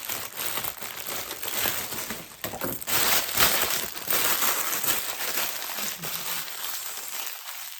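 Paper being crumpled and stuffed into a gift basket, a dense, continuous crinkling and crushing close to the microphone, loud and steady for several seconds before trailing off.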